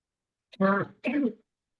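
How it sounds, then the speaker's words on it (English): Two short, close coughs in quick succession, throaty and separated by a brief pause, followed by silence. "I'm coughing so much."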